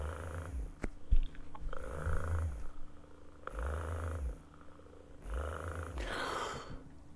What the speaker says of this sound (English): It automatically purrs when you pat it on the head.